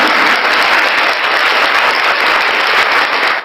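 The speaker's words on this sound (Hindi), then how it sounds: "आप सभी का हमारे चैनल पर तालियों के साथ स्वागत है" Steady, dense applause from a crowd, loud and continuous for the whole stretch, with no voices over it.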